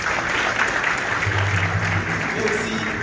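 An audience applauds at the opening of a children's and youth book fair in Dakar. The clapping is steady and moderately loud, with a low hum and murmured speech running underneath.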